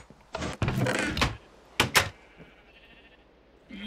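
A sheep bleats in a video game sheep shearing facility, a couple of short nasal cries near the start, followed by a thudding knock and a quieter stretch.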